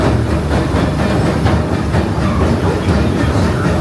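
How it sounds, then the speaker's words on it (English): The Disneyland Railroad train rolls steadily toward New Orleans Square station, with a continuous loud rumble and a faint rhythmic clack of wheels on the rails. "Please remain seated until the train comes to a complete stop."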